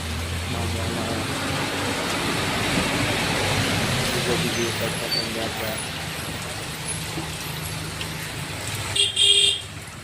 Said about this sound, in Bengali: আমি একটা ভিডিও বানালাম, একটা বাস আসছে